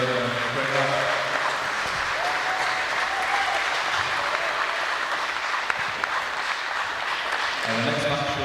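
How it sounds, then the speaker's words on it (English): Spectators at a university squash semi-final break into sustained applause close by, a steady wash of clapping, with a voice speaking over it at the start and again near the end. "the round of applause for Alexa"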